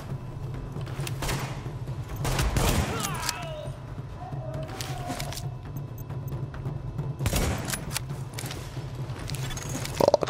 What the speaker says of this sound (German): Boah, das Gewehr geht echt gut ab